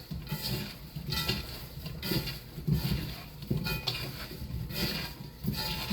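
Seasoned potatoes with a sprinkle of salt are stirred in a pan or bowl, a series of soft scraping, clinking utensil strokes in irregular rhythm, close and fairly quiet, with no talk.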